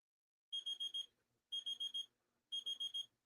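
Buzzer beeps in an auction quiz: three bursts of four rapid, shrill electronic beeps each, evenly spaced about a second apart, clear and isolated against silence.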